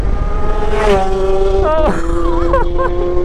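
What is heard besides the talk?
Kawasaki H2 Carbon motorcycle with SC Project exhaust arriving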